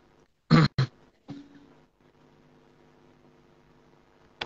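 A person gives a quick pair of harsh coughs or throat clears, close and fairly loud, followed by a softer rasp and then near quiet with a faint low hum.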